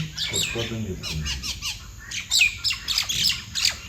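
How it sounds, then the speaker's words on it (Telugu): Parrots squawk harshly and repeatedly, sharp overlapping calls like a squabble, close by, with some voices talking in between. "పక్షులకి ఎందుకు గొడవ అవుతుంది"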